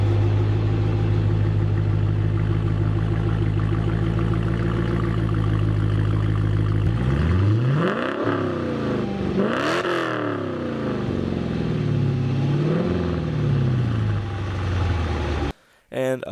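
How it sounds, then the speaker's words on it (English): A 2018 Dodge Challenger R/T V8 with an electronically controlled low-restriction active exhaust idles with a deep steady drone, then blips the throttle in several rising and falling revs, loud and close. "the addition of the electronically controlled low restriction active exhaust, which sounds a lot better than before"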